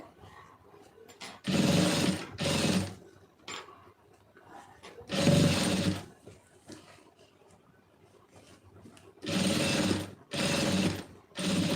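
Sewing machine stitching piping onto fabric in repeated bursts, each a loud close whir lasting a second or two, separated by short quiet pauses.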